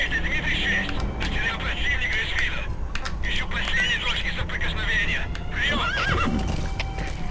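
In Metal Gear Solid V: The Phantom Pain, a horse whinnies loudly several times in quick succession, with hoofbeats and busy background noise throughout.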